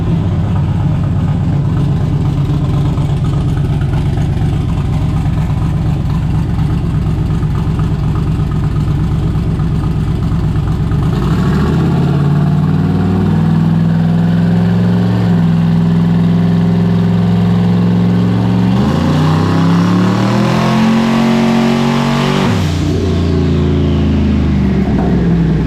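Chevy S10 drag-and-drive truck with a HED setup idling roughly with a slight stumble, then revving in strong, loud surges that rise and hold before dropping back, close and powerful throughout.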